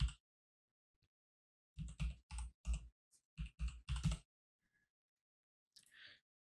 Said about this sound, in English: I'm going to type in Glassmorphism.